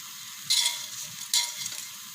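Tilapia frying in hot oil, a soft steady sizzle broken by two brief louder hissing bursts, close and on its own without voices.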